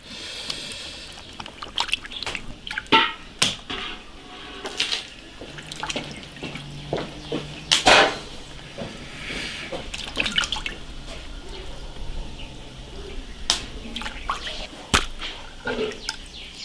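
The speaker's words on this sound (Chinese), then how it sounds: "把它洗一下，把血洗一下。" Yellow croaker fish rinsed under a running tap at a sink to wash off blood, with steady water flow, drips and clattering handling noises; a voice speaks briefly.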